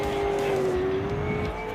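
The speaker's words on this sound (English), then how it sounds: "You see the car barely get disrupted compared to some of the other vehicles in that whoop section." A race car charges through a whoop section during a 2018 qualifying session in Orlando, its engine holding a loud, steady drone with slight pitch shifts and no talk over it.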